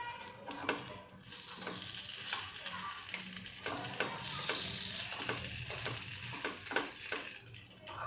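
Paniyaram batter made from poha and semolina fries in oil in a pan, with steady sizzling and occasional stirring or scraping clicks as the pieces are turned, loud and close throughout.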